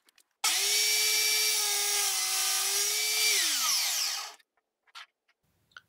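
A power saw runs through a cut in wood for a cam clamp, a loud steady whine for about four seconds that drops in pitch as it spins down, followed by a few faint knocks.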